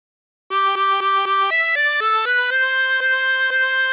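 A harmonica plays She'll Be Coming Round the Mountain, using bends, in steady, evenly spaced notes, each clear and reedy, rising and falling alone with no voices.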